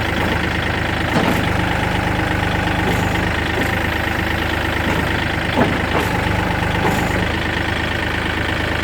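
A Yanmar 49 tractor engine idles steadily without revving, a loud continuous low rumble throughout with a few faint clunks on top.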